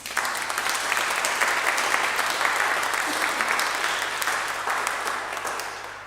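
A church congregation breaks into sustained, dense applause for a departing helper during a Frisian church service, steady and full for the whole stretch with no speech over it.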